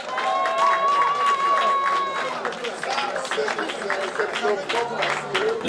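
Guests at a wedding reception clap amid loud music and chatter, scattered applause mixing with voices and background sound.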